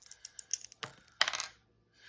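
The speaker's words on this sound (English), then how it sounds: "Let's roll the dice and see." Dice rattle and clatter across a surface in a quick run of small clicks, then one louder tumble that settles, ending in near silence.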